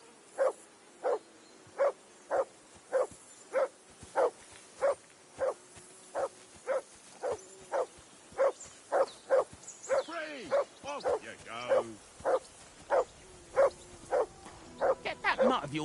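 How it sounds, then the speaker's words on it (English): A dog barking in the video game Kingdom Come: Deliverance 2 at a riverbank camp, loud, regular barks repeating about twice a second for the whole stretch, with some brief game dialogue in the middle. "Get that mutt of yours to stop barking,"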